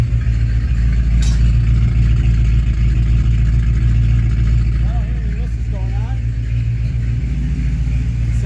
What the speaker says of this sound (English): I'm letting it warm up right now.